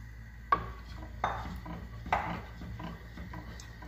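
A spoon stirring arrowroot powder into milk in a pan on low heat, with a few distinct clinks and scrapes against the pan over a quiet kitchen background.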